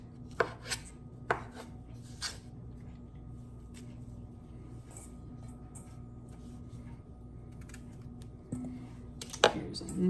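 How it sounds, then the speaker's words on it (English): A knife chops shaggy mushrooms on a board with a few sharp, separate knocks at the start and end, faint and close, over a low steady background hum. "Cut the very end that was like in the dirt, and then cut in half and see how pretty and clean"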